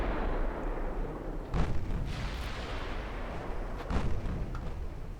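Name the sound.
15-inch naval gunfire against cruisers in a video game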